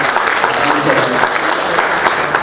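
Loud, dense applause from a live audience at an on-stage interview event, steady clapping filling the whole stretch with some voices mixed in.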